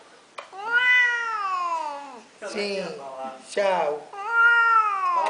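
A female cat meows repeatedly, in long drawn-out, sliding cries with short gaps between them, close by, while a person speaks briefly.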